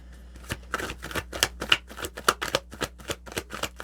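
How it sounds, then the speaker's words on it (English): Tarot cards being drawn from a deck and laid out, heard as a quick, regular series of crisp papery snaps and flicks, close and fairly quiet, about a dozen in under four seconds with no talking. "I'm going to grab 5 cards, please."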